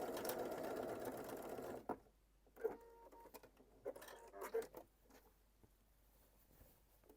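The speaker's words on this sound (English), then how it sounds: "a few wee stitches across the top here will help keep the binding on the inside of the opening" A sewing machine runs briefly, stitching across the top of a bias-bound sleeve placket: a close whirring burst that stops after about two seconds, followed by soft handling clicks and rustles.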